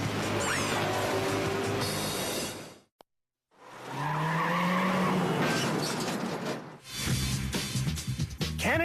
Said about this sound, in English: Canada's worst drivers are showing us that they've learned how to control a skidding J-turn.